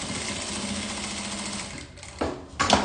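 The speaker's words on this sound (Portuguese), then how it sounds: "Eu vou passar uma costura em toda a volta." A sewing machine runs a continuous stitching burst while sewing a seam all the way around a fabric lining. It whirs steadily and close, then halts briefly before a couple of short restarts near the end.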